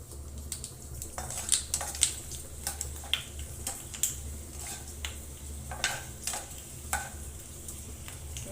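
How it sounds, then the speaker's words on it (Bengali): Potato chips fry in hot oil in a home kitchen with a steady bubbling sizzle. Scattered ticks and stirring clicks sound close by, and no one speaks. "চিপসটা ভেজে দিয়ে নিই।"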